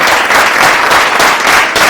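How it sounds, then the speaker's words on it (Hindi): Audience at a virus awareness workshop in a science centre breaking into loud, dense applause, steady sustained clapping from a crowd, close and filling the room. "जबरदस्त तालियां नहीं होनी चाहिए इस मास्क के लिए"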